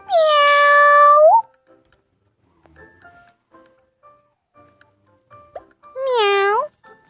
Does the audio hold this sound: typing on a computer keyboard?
no